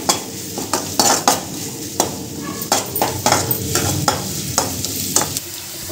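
Mutton pieces fry and get stirred in a pan until browned, with loud repeated scraping strokes of a spatula against the pan over a constant sizzling hiss, up close and without talk.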